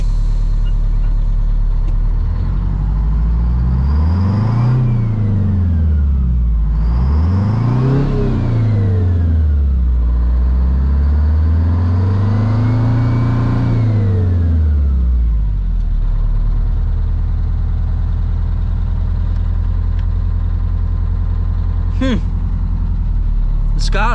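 A 1973 White Freightliner cabover truck with a Detroit 8V71 diesel engine is revved three times, the engine note rising and falling in long swells before settling back to a steady loud idle.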